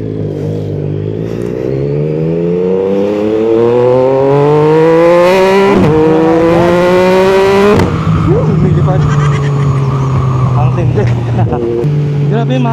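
A 2024 Yamaha MT-09 SP inline-triple motorcycle engine revs up in rising steps with a smooth, refined drone, then holds a steady high hum, loud and close.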